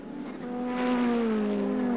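A pack of touring cars roars past at Phillip Island, engines rising in a droning whine that swells and holds loud before settling; one car in the pack sounds ugly.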